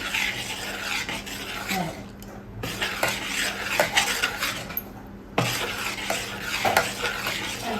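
A spoon stirs thick rice batter in a metal vessel, with repeated scraping and rubbing strokes and occasional knocks against the sides.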